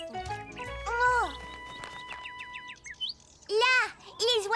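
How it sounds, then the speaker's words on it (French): Cartoon birds chirp in a French children's animated series, with quick tweeting calls and sung bird-like trills mixed with a voice and music, fairly loud and close. "Là, les oiseaux sont revenus."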